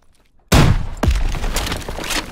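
Gunfire in the video game Call of Duty: WWII: a sudden loud blast, then a second sharp report and a sustained rattle of rapid shots, close and dominant, with no talking.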